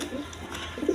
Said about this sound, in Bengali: দর্শকবৃন্দ এইখানে আরেক পেয়ার গররা কবুতর আছে